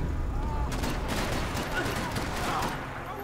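Gunfire in the video game Max Payne 3, including shotgun blasts, heard as a dense, continuous loud barrage of shots and explosive impacts with no clear gaps.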